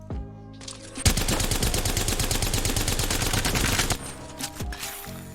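A Havoc energy rifle in Apex Legends empties its full magazine in one continuous rapid burst of evenly spaced shots for about three seconds, loud and close, followed by brief mechanical reload clatter.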